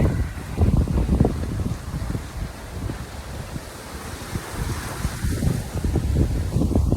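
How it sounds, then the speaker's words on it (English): Strong gusty wind at a rocky coastal lookout buffets the microphone in loud, irregular low rumbles, with a faint wash of surf underneath. "It's super windy out here today"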